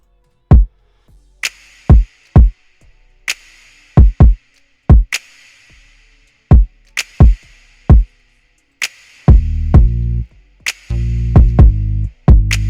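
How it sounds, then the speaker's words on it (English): Simple kick drum pattern in a smooth RnB beat, with deep punchy thumps in an irregular syncopated rhythm, mostly alone, then joined near the end by sustained low bass tones under the kicks. "So then next I like to add the kick in next,"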